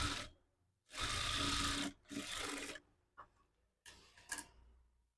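A sewing machine stitching the side seams of a size-34 maggam work blouse, running in several short bursts of a second or so, separated by pauses.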